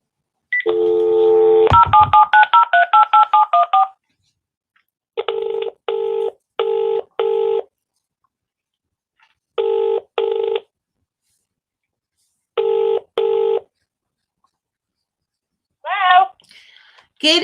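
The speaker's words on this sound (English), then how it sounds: "Let's hope they answer the phone." A telephone call is placed: a rapid run of keypad dialing tones, then a sequence of repeated double ring-back tones spaced by silences, ending as a voice comes on the line.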